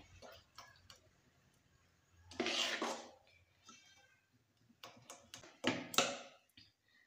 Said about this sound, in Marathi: आता हे फेटून घेऊया आपण.